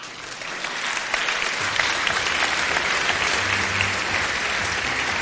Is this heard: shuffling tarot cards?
no